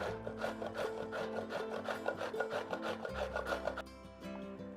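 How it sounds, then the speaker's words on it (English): Zucchini is rubbed against a hand grater in quick, rhythmic rasping strokes, close and fairly quiet, continuing for several seconds before fading down. "you can shred this just with a grater like I have here"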